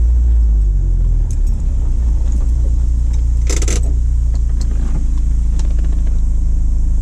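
A Honda S2000 with its F20C engine idles nearby in a steady, low, continuous rumble, with a brief metallic rattle partway through.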